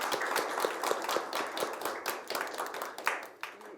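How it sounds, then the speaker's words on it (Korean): Audience applause at a Seoul city council policy forum on education and future jobs for young people with disabilities, welcoming a council member to give opening remarks; steady, moderately loud clapping from a mid-sized room, continuous for several seconds. "힘찬 박수로 맞이해 주시기 바랍니다."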